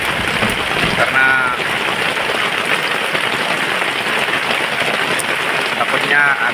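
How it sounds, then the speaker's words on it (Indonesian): Heavy rain pouring down in the Kalimantan forest, a dense, loud, steady hiss of drops on leaves and surfaces, with a few brief chirping sounds at the start and end. "Jadi kita selalu waspada apabila hujan lebat seperti ini"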